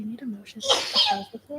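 A single sharp sneeze bursts out during a town board meeting, close and fairly loud, with people talking in the room just before and after it.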